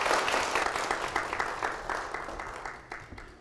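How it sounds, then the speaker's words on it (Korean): Church congregation clapping to welcome two guests forward during a Korean church service, a steady broadband patter of many hands at moderate level that fades gradually, with no speech over it. "박수로 맞아주십시오."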